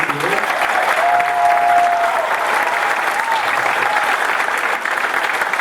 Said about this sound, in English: Let's give a round of applause for B Street Theater